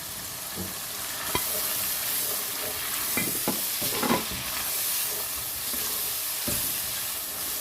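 Red chili powder, crushed coriander and salt frying in chana masala gravy, with a steady close sizzle and hiss and several scraping, clattering stirs of a spoon against the pan.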